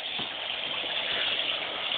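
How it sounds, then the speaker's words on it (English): A sink tap runs for a pet bird's bath, a steady, close hiss of flowing water that stays even throughout with no voices. "Dawson has learned how to turn on the water."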